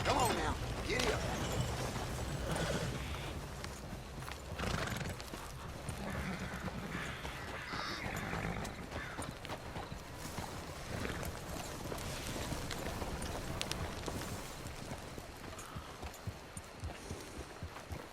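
A horse in Red Dead Redemption 2 runs with a steady clip-clop of hooves, along with creaks of tack and occasional whinnies. Voices are heard at moments over the moderately loud, continuous hoofbeats.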